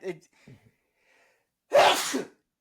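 A single loud, close sneeze bursts out after a few soft murmurs and a short quiet pause.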